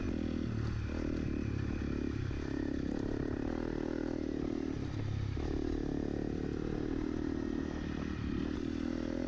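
A dirt bike riding a trail over rocks and soft sand, its engine droning steadily up close with rattling clatter and scraping throughout.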